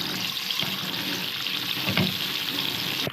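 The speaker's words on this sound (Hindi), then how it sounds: "एक पैन में हमने 3 खाने के चम्मच ऑयल डालेंगे और इसमें साथ ही लहसुन अदरक का पेस्ट डाल देंगे। इसको हम फ्राई कर लेंगे।" Garlic-ginger paste fries in about three tablespoons of hot oil in a pan, giving a loud, steady, close sizzle and crackle that runs unbroken with no voices.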